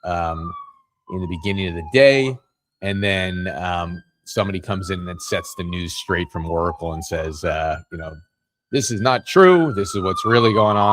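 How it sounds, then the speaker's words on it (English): Police sirens wail faintly in the background, with slow falling tones drifting beneath someone speaking almost continuously in the foreground. "You can hear the sirens going in the background"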